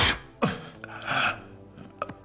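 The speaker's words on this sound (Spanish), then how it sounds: "Y empiezas a toser." A few short, harsh coughs and throat-clearing bursts, close and moderately loud, separated by brief pauses.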